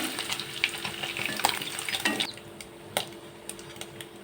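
Cut paneer pieces frying in oil in a pan, a close sizzle with scattered crackles and utensil clatter, easing into quieter bubbling with occasional sharp pops and knocks.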